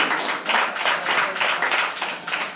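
An audience clapping for guests at a gathering, steady applause in gentle waves, fairly close and with no talking over it.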